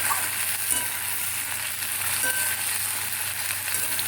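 Drumstick stalks fry in oil in a pan, a dense, steady sizzle and crackle that holds close and even throughout with no pauses.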